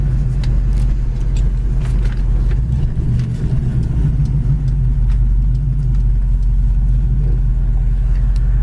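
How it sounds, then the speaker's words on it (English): A 1967 Ford Mustang engine idles at about 600 RPM, a steady deep low rumble heard up close and alone, with a few faint clicks over it. "It's idling at 600 RPM, just really idles."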